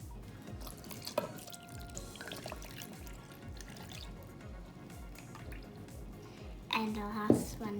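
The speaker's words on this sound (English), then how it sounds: "So now I'm going to put some milk" Milk pours into a cup for mango lassi in a steady, close trickling stream that runs for several seconds, followed by a few clinks near the end.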